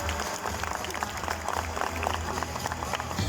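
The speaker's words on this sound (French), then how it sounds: "je pense que nous pouvons les applaudir bien fort, Nel et Cali" Zoo audience applauding after a sea lion show, a loud, dense wash of clapping from a large crowd, steady throughout.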